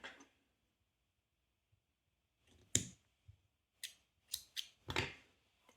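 Scissors snip crochet yarn on an amigurumi Halloween mushroom, a few crisp close clicks scattered through near-silence, with a short cluster of quick cuts toward the end.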